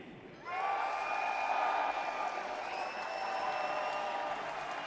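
Crowd at a Counter-Strike esports grand final in Munich erupts into loud cheering and applause after a brief quiet moment, a dense roar with shrill whistles and shouts that stays strong and sustained.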